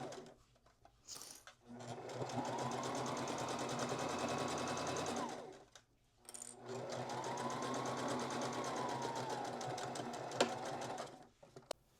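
A domestic sewing machine stitches a dog bandana made from a man's shirt, whirring steadily in two long runs with a short pause between them, close and alone.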